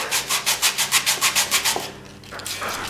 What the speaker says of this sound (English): Use some 60 grit, get in there